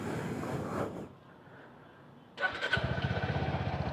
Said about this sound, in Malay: Kita start motor,